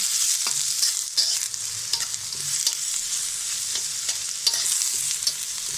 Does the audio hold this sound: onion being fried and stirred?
yes